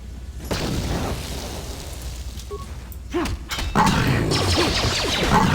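A frag grenade blast in the Star Wars game KOTOR, set on Taris amid a fight with rakghouls, heard as a sharp crack and then a rumbling burst over steady low background noise, with no voices.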